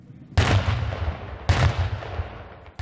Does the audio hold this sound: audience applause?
no